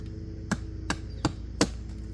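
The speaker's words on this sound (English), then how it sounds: "What an excellent little hatchet, man. I'm telling you guys, this is zipping right through this material." Beavercraft AX1 hatchet chopping wood, four sharp, evenly spaced thwacks at close range over a low background hum.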